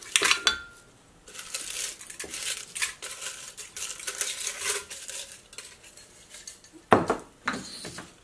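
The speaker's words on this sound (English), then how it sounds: "I put the eggshells, I dump them into the blender." Dry crushed eggshells tumble and rattle into a blender jar in several bursts of clattering, brittle clinks, loud and close, with short pauses between pours and a final sharp shake.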